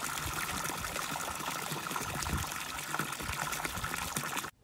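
Free-flowing natural spring water splashing and trickling steadily and fairly close, continuous for a few seconds before stopping abruptly.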